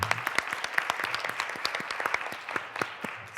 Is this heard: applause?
yes